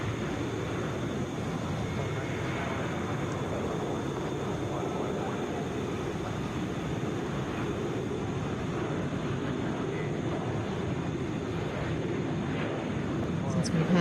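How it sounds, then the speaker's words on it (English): A Boeing 737 airliner at Atlanta International Airport gives off a steady, broad jet rumble that holds at an even level throughout, sounding moderately distant. "Next up in the conga line, this is 2398 going to Louisville,"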